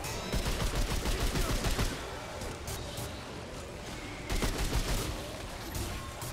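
Rapid bursts of gunfire fill a Remnant 2 co-op shootout, dense and loud, swelling in two heavier volleys with continuous firing between them.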